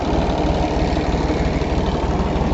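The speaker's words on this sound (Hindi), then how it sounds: "PTO से चल रहा है, और आप देख सकते हैं 39 HP ट्रैक्टर" Mahindra 265 39 HP tractor idling steadily while its PTO drives a spray pump on a water tanker rig, a continuous close, loud diesel chug with a low rhythmic knock and no talk.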